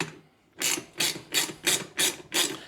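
Bolts with washers being tightened on a heavy-duty poly yard dump cart, heard as five evenly spaced bursts of ratcheting clicks, close and fairly loud, with no talking.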